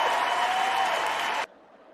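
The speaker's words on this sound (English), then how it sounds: "Cue applause." A canned applause effect fired from a button on a podcast set: dense clapping and cheering that runs steadily for about a second and a half, then cuts off abruptly.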